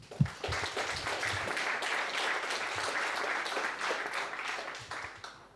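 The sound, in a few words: audience applause for sponsors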